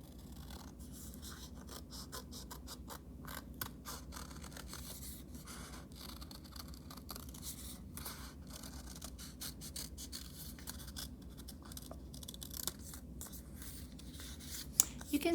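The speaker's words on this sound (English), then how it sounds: "take your scissors and cut out that little space that you drew" Scissors snipping through paper while a stabile sculpture is made, a quiet, steady run of small cuts and rustles over faint background hiss.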